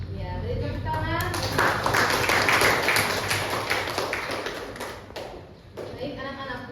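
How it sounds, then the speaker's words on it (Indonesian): A classroom of students claps after a lesson, brief scattered applause rising and fading under a teacher's voice speaking nearby. "beri tepuk tangan"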